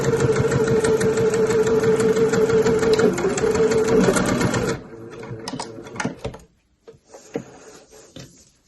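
Close, loud sewing machine runs continuously along a short tote bag seam for a boxed corner, then slows into a few short bursts and clicks before stopping.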